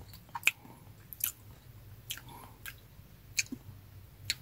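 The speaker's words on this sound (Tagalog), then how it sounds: "Tsaka crunchy pa yung kanyang balat." Crunchy lumpia spring rolls chewed up close in a mukbang, with sharp, irregular crunches and wet bites spaced every half second or so against a quiet background.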